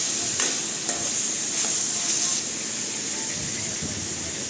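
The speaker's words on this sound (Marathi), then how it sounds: "त्यानंतर टोमॅटो घालणार आहोत आणि छान ढवळून घेणार आहोत" Chicken and tomatoes frying in a pan, a steady close sizzle with a few soft stirring scrapes early on, then a quieter continuous hiss, no voices.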